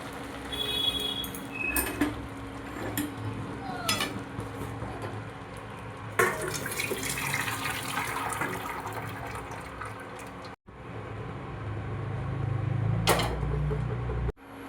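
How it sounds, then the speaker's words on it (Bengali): Boiled cabbage poured from one pot into another and drained, with water rushing and splashing and metal creaks and clanks. It is fairly close and loud, with no speech. "এবার আমি বাঁধাকপি অন্য পাত্রে ঢেলে নিচ্ছি এবং জল ঝরিয়ে নিচ্ছি।"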